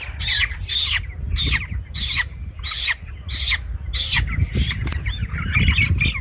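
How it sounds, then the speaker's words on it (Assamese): Broiler chickens on a poultry farm in Assam, handled during vaccination, squawk loudly and close in a rapid series of about a dozen harsh calls over a constant barn rumble. "ধুনীয়াকৈ দি থকা হৈছে আৰু ধুনীয়া সুস্থ সবল এই চৰাইখিনি"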